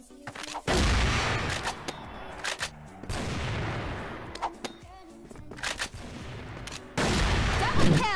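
Heavy gunshots from a Dragunov sniper rifle boom repeatedly in the shooter CrossFire Vietnam, spaced a few seconds apart with sharp cracks, echoing tails and scattered game effects between them.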